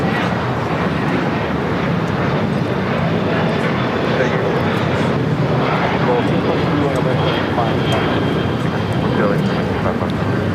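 A Condor Airbus A330neo in beige striped livery arriving at LAX gives a steady, loud, broadband engine roar that holds level throughout, with voices talking over it.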